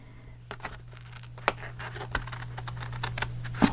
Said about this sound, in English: Let's cut this the same height as this card.